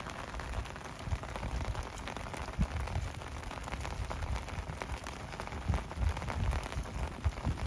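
Rain falls steadily on a riverbank during fishing, a dense patter of drops with occasional heavier splats, close and continuous throughout.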